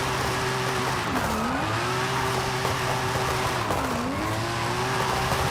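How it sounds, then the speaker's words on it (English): A 1987 Mercedes-Benz drifting in Forza Horizon 5, its engine droning steadily while the tires squeal in long sustained wails that dip and recover twice as the car slides sideways, close and continuous with no talk. "Let me drift my way around home because we are very close to home"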